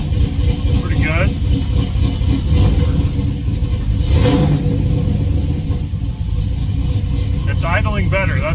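A 1989 Chevy S10 Blazer with an LS V8 swap idles with a steady, low rumble close by, while people talk over the engine.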